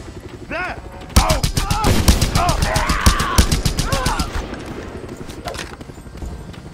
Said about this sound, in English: they're really into heavy machine guns, so let's do it